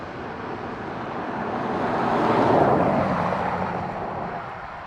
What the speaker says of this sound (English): Ryanair from Kerry next to land.